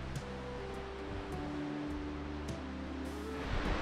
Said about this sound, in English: It was so cool to experience such a powerful waterfall.